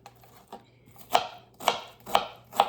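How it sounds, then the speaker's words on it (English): A knife chops vegetables for homemade spaghetti, with a few faint light taps followed by four sharper, evenly spaced cuts on a board, close and isolated over a low background hum. "I'm gonna finish chopping this stuff up"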